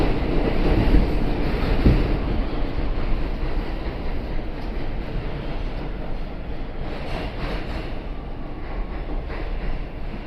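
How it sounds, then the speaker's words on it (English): A new R211T New York City subway car on a C local train runs steadily, a dense rumbling roar of wheels and rails with rattling and wind, continuous and fairly loud from inside the car. "This is a Euclid Avenue bound C local train."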